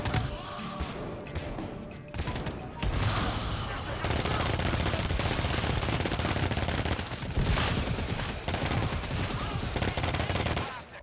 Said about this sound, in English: Stop shooting your guns,